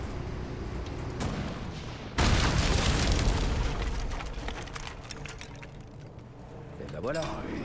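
A loud boom of cannon fire in Resident Evil 4 erupts suddenly, then rumbles and fades, with a voice talking before and after.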